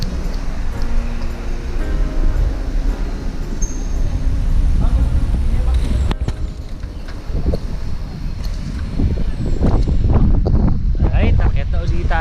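Wind buffeting the microphone during a motorcycle ride to Kaybiang Tunnel, a loud continuous rumbling roar with passing road and engine noise, and voices talking over it.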